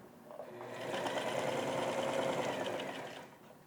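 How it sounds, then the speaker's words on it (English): A sewing machine stitches a stiff quilted laundry bag sewn from leftover fabric, running in one steady, close, rapid mechanical whir for about three seconds and ramping up and down at the ends. "These are not soft, pillowy clouds I'm sewing here"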